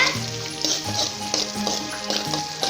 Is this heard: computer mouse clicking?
no